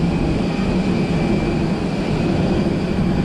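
A short, stubby passenger plane at an airport, on a 2021 flight from Laos into Phuket, Thailand, gives off a steady, unbroken engine roar and rumble that stays loud and even throughout.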